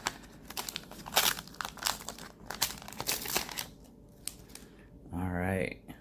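Crinkly wrapper being torn open on a wax pack of 1990 Fleer baseball cards, with bursts of sharp rustling and crackling close up, then a brief voice at the end.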